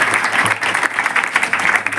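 A roomful of students at a girls' college class in Hyderabad claps steadily for a girl, with a thick, continuous patter of hands nearby and slight swells in intensity.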